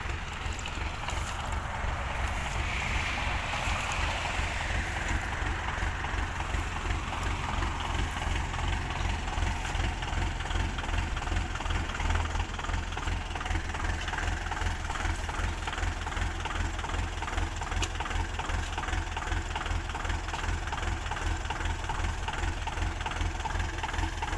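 A heavy tractor engine chugs and rumbles continuously at close range while stuck in mud, a steady mechanical drone with no pauses.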